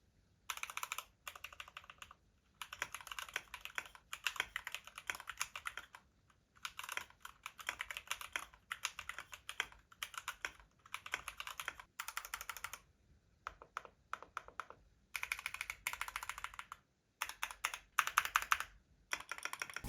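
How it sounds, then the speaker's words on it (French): Close, quiet typing on a newly built custom mechanical keyboard, bursts of rapid clacking keystrokes separated by short pauses, with no voices. "le son brut que l'on a avec le clavier est correct"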